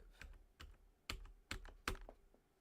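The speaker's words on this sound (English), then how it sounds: "Stupid keyboard." Computer keyboard typing while setting up a CNC cut: about six separate key clicks at an uneven pace over nearly three seconds, quiet and close, with no speech.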